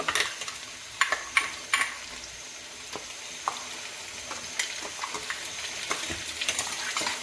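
Onion frying in a pan as ground ginger-garlic paste is added for a village-style chicken curry, a soft steady sizzle broken by sharp clicks and scrapes of stirring, close and fairly quiet, no voices.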